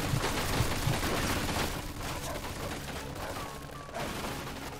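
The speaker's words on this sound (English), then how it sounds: "Like we found the machine gun" Automatic gunfire from the Mafia II video game, a dense continuous rattle of shots with crashing impacts, fairly loud and sustained, with no clear talk over it.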